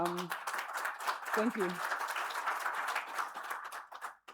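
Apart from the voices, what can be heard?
audience applause at a conference talk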